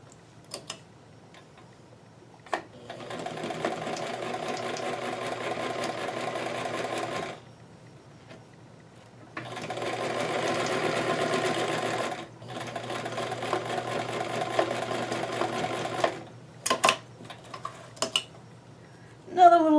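A home sewing machine stitches a doll dress in three sustained whirring runs separated by pauses, followed by a scatter of clicks and small mechanical taps as the fabric is adjusted.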